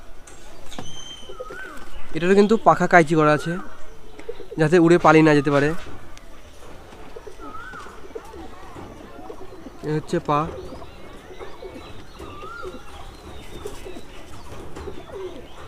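Madras pigeons coo in several short bursts, close and clear, while someone talks throughout between and over the calls.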